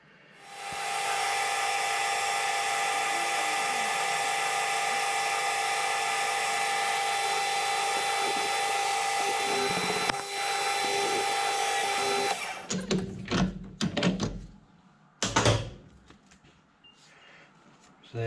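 A lathe machining a chamfer on the ends of steel pin bushes for a Yanmar excavator, a loud steady high-pitched whine for about twelve seconds, then stopping and giving way to clunks and metallic handling sounds.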